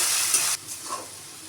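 Potato pieces fry in oil for sabudana khichdi, giving a loud, bright hiss and sizzle that cuts off abruptly partway through and leaves only a faint, quiet background.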